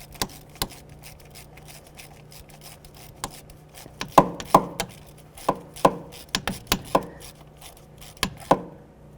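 Close, sharp mechanical clicks and knocks from a torque wrench snugging and torquing an ignition coil bolt on a 2007-17 Ford Expedition, irregular and intermittent, with no one talking.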